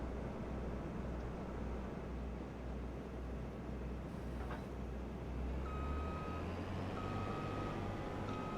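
Reversing beeps from a big truck in a farming video game, a steady repeated tone running over a constant low engine drone, near and fairly quiet with no talking.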